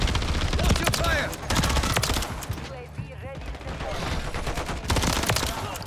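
Rapid automatic fire from the Rival-9 rifle in Call of Duty MW3 crackles in loud dense bursts, briefly easing off midway before resuming, with faint game voice and effects underneath.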